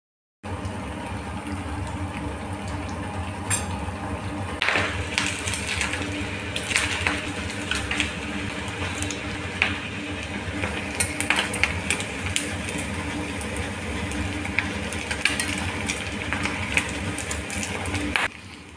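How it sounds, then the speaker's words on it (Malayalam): Boiled beef pieces drop into hot sesame oil for deep frying a beef pickle, giving a steady, dense sizzle and bubbling that runs throughout, with a few sharper crackles and spatters rising above the constant hiss. "വേവിച്ച് വെച്ചിരിക്കുന്ന ഈ ബീഫ് എണ്ണയിലേക്ക് ഇടുകയാണ്."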